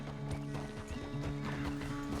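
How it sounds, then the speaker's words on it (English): A horse's hooves clip-clop in a steady walking rhythm in a video game, fairly quiet, with a low horse vocalization mixed in among the hoofbeats. "The horse can feel your fear."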